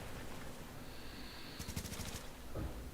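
Brief burst of rapid automatic gunfire in The Division PvP shooter game, a quick string of sharp shots about halfway through over a steady game background hum, fairly faint overall.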